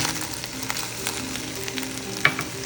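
Bacon and onions fry in a pan on the stove, a steady close sizzle with faint crackles throughout and one brief utensil tap toward the end.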